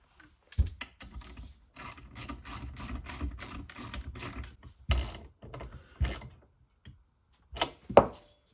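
A ratchet tightens a nut on the door assembly of a 1973–1979 Ford truck, rapid clicking runs in short bursts with pauses between, close and crisp, ending with a few isolated clicks and knocks.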